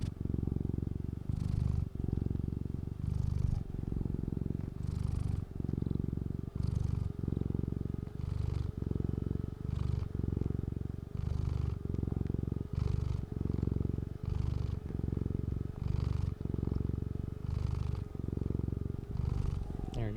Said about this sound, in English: It's my cat purring.